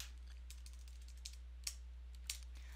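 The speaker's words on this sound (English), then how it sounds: "start by pressing the dash, a space, and beginning to type" Light keystrokes on a computer keyboard, a few sparse, quiet clicks spaced irregularly over a steady low electrical hum, as when typing a dash, a space and the start of a bulleted list.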